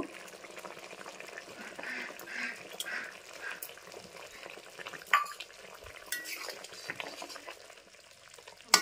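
A taro-stolon and fish curry simmers and fries with ground cardamom and cinnamon paste, giving a faint, steady sizzle and bubbling. Occasional light utensil knocks come through.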